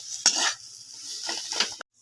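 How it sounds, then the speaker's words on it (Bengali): A spoon scrapes and stirs potatoes with spices in a pan for a Bengali potato sandwich filling, in a few short, close, soft bursts, with no talk. "আলুর সঙ্গে এই যে মশলাগুলোকে আমি ভালোভাবে মাখিয়ে নেব।"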